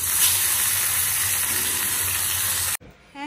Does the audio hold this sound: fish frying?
yes